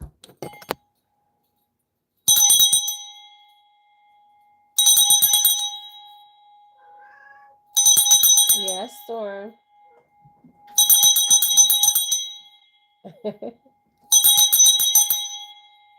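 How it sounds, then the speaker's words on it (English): A handheld bell is rung five times at steady intervals, each ring a bright, sustained metallic tone, with a person speaking in the gaps between rings. "I need to ring this bell."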